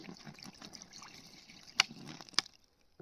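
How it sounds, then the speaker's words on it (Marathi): Water is splashed quickly into a bowl set out for sparrows, a quiet close trickle and splash with a couple of sharp knocks. "तर हे बघा फटाफट पाणी टाकून घेऊया."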